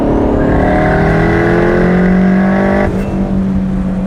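A twin-turbo 350 V8 car rated at 1,000 horsepower accelerates hard on winding roads, its loud, steady engine note rising in pitch for almost three seconds before a brief dip as the throttle lifts or a gear changes. No voices are heard.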